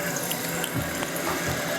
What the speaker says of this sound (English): you see the water is going into the fill pipe via that little hose there